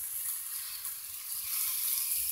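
Dollar Tree rib eye steak frying in a pan, a steady close sizzle with fine crackling spatter and no voices.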